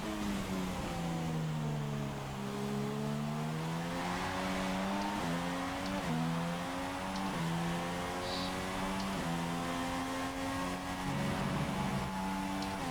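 A Formula 1 car in the F1 2016 racing game takes Copse corner at the British Grand Prix, its engine screaming steadily at high revs with quick gear-shift dips and faint tyre scrub throughout, no talking.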